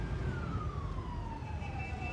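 Steady street traffic rumbles throughout while a siren wails across it, its tone sliding slowly downward as the vehicle passes at moderate distance.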